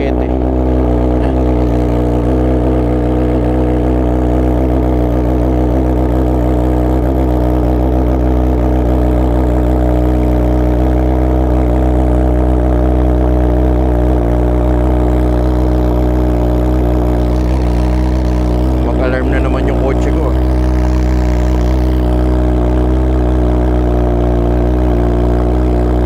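A Ducati Panigale V4 fitted with a full titanium FM Projects exhaust idles loud and close, a dense, steady burble with slight fluctuations, running continuously throughout.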